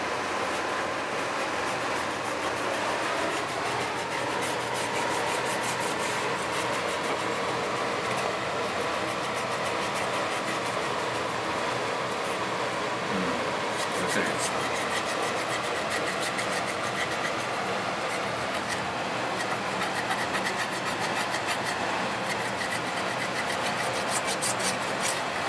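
Rust being rubbed off a knife blade with rust remover, a continuous rasping scrub of fairly even strokes that runs steadily the whole time, close and moderately loud, with no talking.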